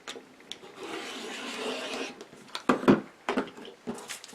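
Rotary cutter slicing through quilting cotton strips along a template, a soft brief scraping rub followed by a few short crisp cuts and taps, close and quiet with no talk.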